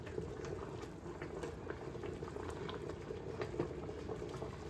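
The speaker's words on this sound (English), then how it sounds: "this is a good hard rolling boil" Strawberry maple sauce at a hard rolling boil in a canning pot, a faint, steady bubbling and popping churn with frequent small bursts, continuous and without speech.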